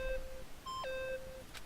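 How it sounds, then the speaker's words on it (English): Electronic beeps in the Danganronpa video game, a few faint steady tones in an alternating pattern, quiet and thin against a low background. "Stop that goddamn beeping and say something"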